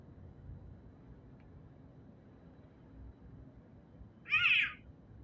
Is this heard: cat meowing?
yes